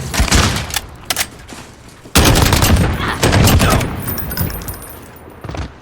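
Assault rifle gunfire in Call of Duty: Modern Warfare, loud rapid automatic bursts with short pauses, a heavy sustained burst from about two seconds on, tailing into scattered shots.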